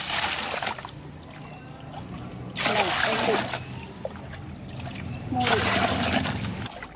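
Tap water pouring in heavy bursts into a container for making phenyl at home, splashing loudly in two long surges with quieter trickling between, no speech over it.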